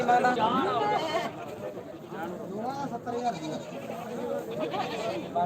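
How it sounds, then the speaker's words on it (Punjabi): Goats, including a white Barbari goat, bleat in wavering, quavering cries over a steady background of people talking nearby. "ਲੈ ਵੀ ਤੇਰੇ ਲੈਣ ਵਾਲਾ ਬੱਕਰਾ ਆ ਗਿਆ"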